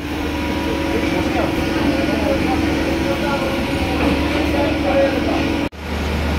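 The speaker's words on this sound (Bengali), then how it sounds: "তো এখন ট্রেন আসছে, তো এখন যাই ওকে ট্রেনে তুলে দিই" A train arrives at Sealdah railway station with a steady, loud rumble and droning hum that fills the platform and cuts off abruptly near the end; voices may be present beneath it.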